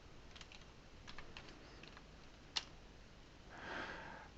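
Computer keyboard keys tapped while entering a command on a Raspberry Pi system, a few faint scattered clicks over steady room hiss with one sharper keystroke, no voices.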